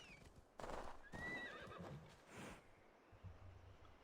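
A horse in the video game Assassin's Creed Valhalla whinnies in a few quiet, breathy bursts, with faint hoof clip-clops and low rumble trailing after.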